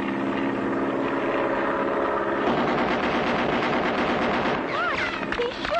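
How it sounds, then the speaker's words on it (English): Cartoon aircraft gunfire during an aerial chase: dense, continuous rattling bursts over an engine drone, loud and close, with a few whistling sweeps near the end. "he's shooting"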